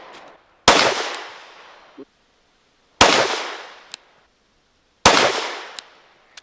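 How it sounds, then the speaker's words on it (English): Three single 9mm pistol shots from a full-size handgun, fired off a rest while zeroing a red dot at 25 yards outdoors. Each sharp crack is followed by a long fading tail, and the shots are spaced about two seconds apart. "for zeroing, we're at 25 yards, shooting off just a rest"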